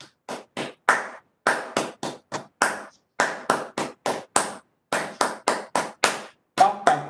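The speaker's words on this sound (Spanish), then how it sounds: "Primero con palmas" Crisp, close hand claps beat out a short syncopated 'papa con yuca' pattern, repeated several times with brief pauses between phrases, from a single person in a quiet room during a music workshop.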